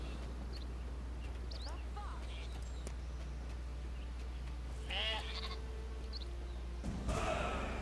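Sheep in the strategy video game Northgard bleat before slaughter: a short quavering bleat early on, a clearer wavering one midway and a noisy burst near the end, all over a steady low in-game hum.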